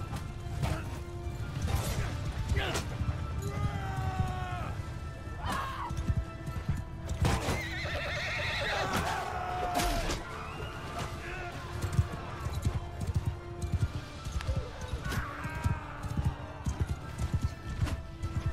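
Battle in the video game Mount & Blade II: Bannerlord: steady horse hooves clopping at a gallop, occasional neighs and whinnies, sharp weapon impacts and crashes, all fairly faint and layered into a busy mix.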